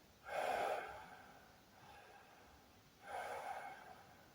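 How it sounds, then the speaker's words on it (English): Demonstration of tight, shallow breathing from the chest during a breathwork session: two audible breaths, a stronger one at the start and another later, with a faint breath between, close and alone with no talking. "if you're breathing only from the chest"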